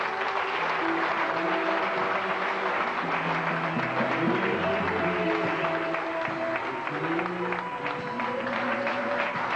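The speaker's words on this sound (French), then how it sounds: "Je veux que tout le monde acclame le Seigneur très fort." A congregation at an evangelical church service applauds and cheers continuously, loud dense clapping with voices and music-like tones mixed underneath throughout.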